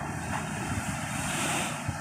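High waves surge at Matnog port in rough weather, a continuous loud wash of surf and wind rumbling across the whole stretch.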